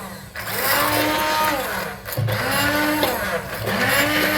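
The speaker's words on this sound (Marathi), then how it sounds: "आमच्याकडे स्मॅशर आहे तर आम्ही स्मॅशर जोडलं आहे" An electric smasher whirs steadily while mashing boiled vegetables into a paste for homemade pav bhaji, its motor pitch sagging briefly twice as it bites into the mash, close and loud throughout.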